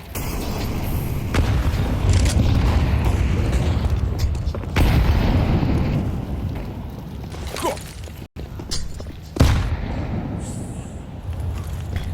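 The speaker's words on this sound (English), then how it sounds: "Great nades to soften up the B hit" Grenade explosions during a Counter-Strike match at IEM Cologne 2025, TheMongolz versus NAVI: several loud booming blasts spaced over the stretch amid game noise, with a commentator's voice underneath.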